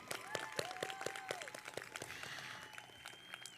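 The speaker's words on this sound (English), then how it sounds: "let's applaud for that" Audience applause at a 2021 high school graduation ceremony, a steady crowd clapping with a few whoops and whistles rising over it, continuing throughout.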